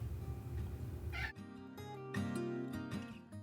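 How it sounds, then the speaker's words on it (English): A cat meows repeatedly, close by, over steady low background noise, with a couple of drawn-out vocal calls toward the end. "And you hear my kitty, Mr. Bear, in the background here talking to"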